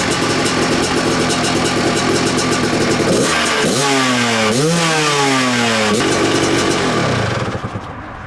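A Honda XR650R motorcycle engine runs steadily at a loud, close idle with a few rising and falling rev swells, then is shut off and dies away near the end.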